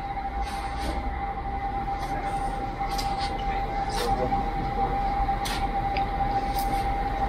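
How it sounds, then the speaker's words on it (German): A train stands idling at a station platform on the lower level, a steady mechanical hum and tone running throughout with faint intermittent clicks and squeaks over the constant drone. "Der Zug, der steht hier schon und wartet auf uns."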